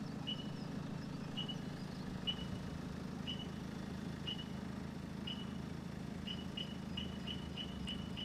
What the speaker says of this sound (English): So if you have a look, the engine's running.